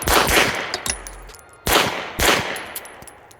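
Pistol shots ring out during grip practice for competition shooting: a quick cluster of sharp, loud cracks at the start, then two more spaced shots, each echoing briefly.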